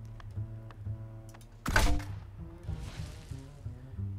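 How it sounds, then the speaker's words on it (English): A Fallout 4 weapon firing a Molotov-like shot: one sharp, hollow ka-thunk about midway through, rising over quiet game music and ambience, with a soft whooshing tail. "Basically this one's like shooting Molotov cocktails. It's got a nice ka-thunk to it."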